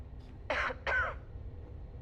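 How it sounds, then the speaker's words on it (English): Two short, sharp coughs in quick succession, close and fairly loud, followed by quiet. "I've been coughing the whole day."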